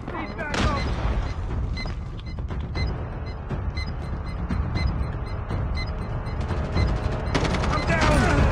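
Continuous gunfire and mechanical clatter in the video game Call of Duty: dense rapid bursts of shots and booms throughout, loud and busy, with shouted game voices mixed in.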